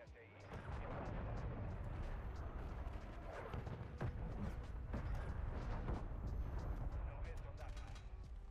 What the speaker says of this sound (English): Throw these nades over here real quick.